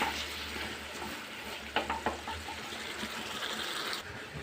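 Tomatoes for chutney fry in a pan with a soft, steady sizzle, broken by a couple of brief utensil scrapes and clinks partway through; fairly quiet and close, with no talking.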